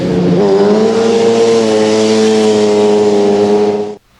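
A motorcycle engine revs hard and holds a loud, sustained high-pitched whine as the clutch is slipped to lift into a wheelie, then cuts off abruptly after about four seconds.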